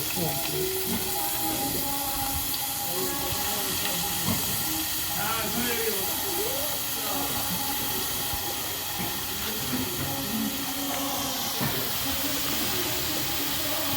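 Grated bottle gourd mixed with water hits hot ghee in a pan for a Bengali sweet pudding, giving a loud, continuous steamy hiss and sizzle that holds steady throughout, close up.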